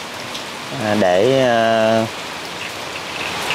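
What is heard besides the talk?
heavy rain falling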